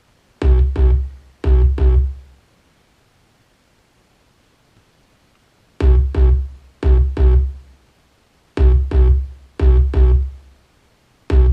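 Three layered synth parts with an 808 sub bass form a beat of deep booming paired hits with bright transient tops, repeating in groups separated by long near-silent gaps.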